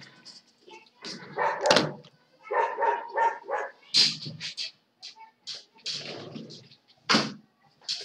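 A neighbor's dog barks outside a window in repeated short bursts and yips, fairly close and loud, with a few pauses between volleys.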